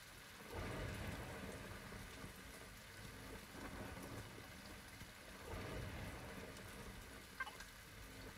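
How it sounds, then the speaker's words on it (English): Steady rainfall in the Cornucopia video game, a soft continuous hiss with low rumbling swells like distant thunder, faint and even throughout with no talking. "Yeah, it's raining."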